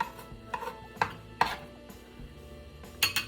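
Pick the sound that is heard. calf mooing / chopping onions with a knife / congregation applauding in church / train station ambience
chopping onions with a knife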